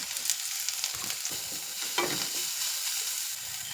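Taro stems frying with dried red chillies in a hot pan, a steady broadband sizzle with occasional scraping stirs of a spatula, close and continuous with no talking.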